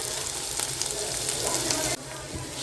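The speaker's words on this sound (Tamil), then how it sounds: "பெரிய வெங்காயம் சேர்த்து நல்லா கிளறி விடுங்க. இந்த வெங்காயம் வந்து நல்லா வதங்கட்டும்." Chopped large onions fry loudly in a pan for prawn gravy, a dense continuous sizzle with stirring scrapes, close up and alone, dropping slightly in level near the end.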